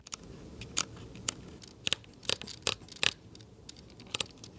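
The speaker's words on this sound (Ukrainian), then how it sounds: "Навіть клацання на ZF звучить краще." Crisp mechanical clicks, a dozen or so in irregular bursts, close and fairly quiet over a low background hiss, like a Nikon Zf camera dial being turned notch by notch.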